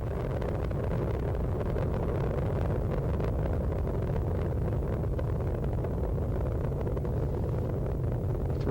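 Space Shuttle Discovery's three main engines roar steadily through launch and ascent, a loud continuous rumbling blast with dense low-end power and crackle, unbroken and without speech.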